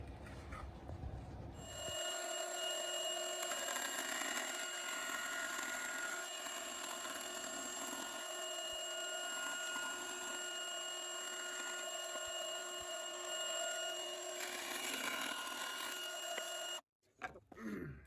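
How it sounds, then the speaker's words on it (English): A bandsaw trims excess kydex from a knife sheath, a loud steady whining cut with sharp tonal ringing that runs nearly continuously before stopping abruptly. "Now we're going to take it over to the bandsaw and we're going to trim off"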